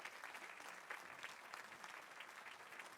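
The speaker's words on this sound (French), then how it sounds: "Sous vos applaudissements." An audience at a francophone manuscript ceremony applauds, a faint, steady patter of many hands heard from some distance, continuous for a few seconds with no voices over it.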